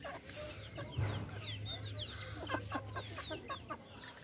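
A chicken clucks softly and repeatedly in a quiet, faint farmyard setting, with a few short chirps mixed into a steady low background hum.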